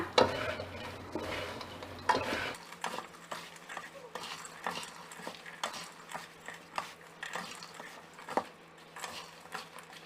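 A spoon stirs pork crackling together with fried garlic and fried shallots for a Thai chili paste, giving repeated soft scraping and clinking against the pot, near and fairly quiet, with brief light taps throughout.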